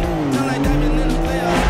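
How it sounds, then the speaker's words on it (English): A car is driven hard in a movie chase scene, engine roaring loudly with tires squealing in sustained, wavering tones throughout. "It's called driving, Marcus."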